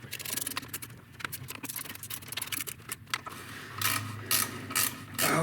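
Ratchet wrench clicking steadily as head bolts are tightened on a 2006 Subaru Outback SOHC engine during a head gasket replacement, close and busy, with a brighter burst of rapid clicks near the end.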